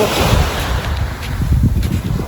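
Ocean waves along the shore at Pattaya, Thailand, a steady rushing surf mixed with wind buffeting the microphone, continuous and fairly loud throughout with no talk.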